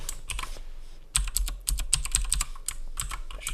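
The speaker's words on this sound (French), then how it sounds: "Je suis désolé pour les touches, hein, comme c'est un clavier méca." Rapid clicky keystrokes in uneven bursts, close and crisp, the clatter of a mechanical keyboard being typed on while entering a database username and password.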